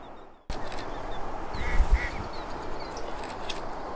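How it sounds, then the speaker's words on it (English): Ducks on a partly frozen river give a few short quacks and honks at middle distance over a steady outdoor rumble of wind and flowing water. "As you can see, we still have a few ducks"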